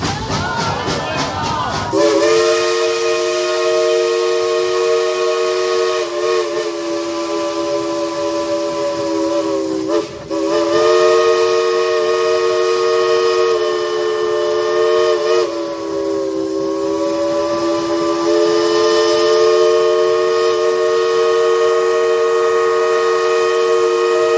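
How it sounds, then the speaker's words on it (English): A steam train whistle at Dollywood blows long and loud, a sustained chord-like wail with slight dips, running continuously over hissing and rumble. "let's tell Julie to blow the whistle"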